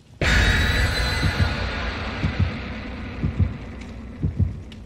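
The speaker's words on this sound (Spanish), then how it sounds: "Ponen nervioso los latidos del corazón y todo eso cuando empiezan plum, plum, plum, plum, plum, plum." A heartbeat in the video game Dead by Daylight thumps in a steady, rhythmic pattern of low, paired beats over a constant droning hum, loud and close.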